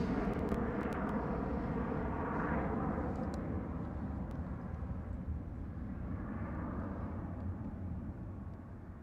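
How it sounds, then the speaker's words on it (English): A Delta Air Lines Airbus A330 roars at Schiphol Airport, a loud, steady broadband rumble of jet engines that holds for the whole stretch with a slight swell and fade, with no voices. "Delta Airlines A330."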